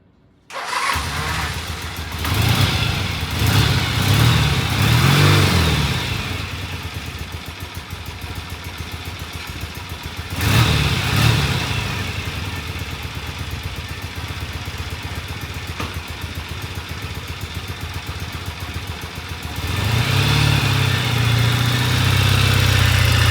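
A Norton motorcycle engine cranks and fires after a short silence, then settles into a loud, close idle with repeated throttle blips and revs rising and falling throughout, no talking.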